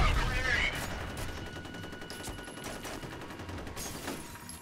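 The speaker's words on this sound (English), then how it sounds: "All the machine guns. Yep. The drum beat of death." Rapid machine gun fire in the video game Ahhhh Real Monsters, a fast rhythmic stream of shots over a steady noisy bed with a few louder cracks, continuing throughout.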